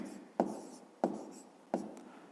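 Chalk or marker writing on a board during a 5th-grade maths lesson, three distinct scratchy strokes at roughly even intervals, each starting sharply and trailing off, close and fairly quiet with no talk.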